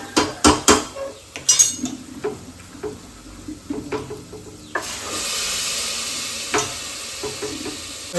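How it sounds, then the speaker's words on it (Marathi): Masala sautéed with cowpeas in a pan: a run of sharp spoon scrapes and clacks against the metal, then a swelling, steady sizzle with occasional stirs, close and loud. "आता व्यवस्थित असं परतवून घेते. आपण याच्यामध्ये टाकू चवळी."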